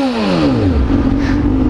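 A motorcycle with a new exhaust revs up close by, a brief loud roar whose pitch falls then settles into a steady drone.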